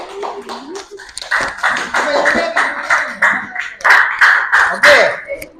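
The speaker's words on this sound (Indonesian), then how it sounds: "Kasih tepuk tangan untuk kelompok 1" Classroom students clapping for group 1 in a physics lesson on wave characteristics, with rhythmic bursts of claps and taps mixed with group voices chanting along.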